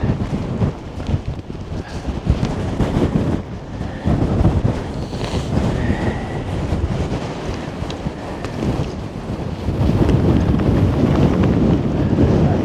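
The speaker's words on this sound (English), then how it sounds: "we're up in the wind again." Strong wind on an exposed Appalachian Trail mountain ridge, a steady loud roar with heavy gusts buffeting the microphone throughout, swelling stronger near the end.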